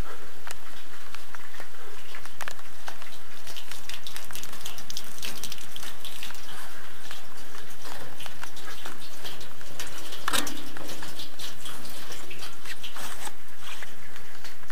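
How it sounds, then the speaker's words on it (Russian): Heavy rain pours through a house gutter and downspout system, a dense, steady rush of water that continues without a break for the whole stretch, loud and close. "Дождь не дает работать, но хотя покажу, как работает водосточная система."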